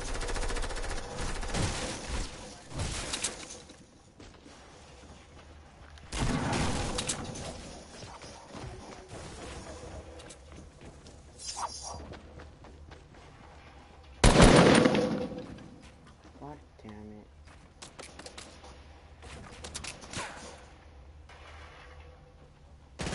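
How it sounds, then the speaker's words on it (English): Shotgun blasts in the Fortnite video game: a few loud, sharp shots spaced several seconds apart, the strongest near the middle, over steady background game noise. "Five more shotgun shots left."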